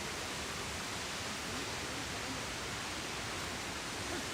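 A waterfall at Mount Rainier National Park roars as a constant, dense hiss of rushing water, unbroken and even from start to finish, with no other sounds standing out.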